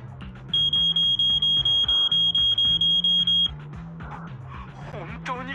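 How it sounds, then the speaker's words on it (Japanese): Repeated alarm beeps from Zenless Zone Zero, a steady run of about a dozen evenly spaced high electronic pulses over background game music, then stopping while the music continues. "本当に警報が来たぞ。"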